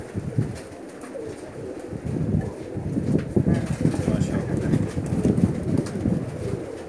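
Pakistani pigeons cooing softly in low, repeated murmurs while someone talks nearby.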